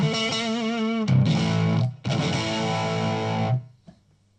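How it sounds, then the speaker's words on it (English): An electric guitar through an overdriven, distorted tone from a TS9 overdrive pedal with all knobs at 12 o'clock plays a few sustained chords and notes, loud and close, then rings out and stops. "Here we have a TS9 with everything at 12 o'clock."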